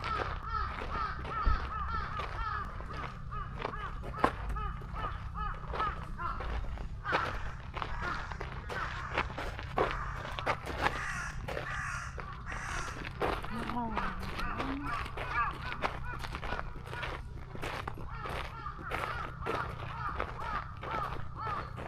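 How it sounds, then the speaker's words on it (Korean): Crows caw repeatedly at a distance in a park in Japan, the harsh calls spread through a long stretch over footsteps and rustling, with people talking at times. "까마귀 깍까거리고 지나네"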